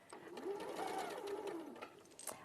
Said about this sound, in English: you're just going to sew single units to pairs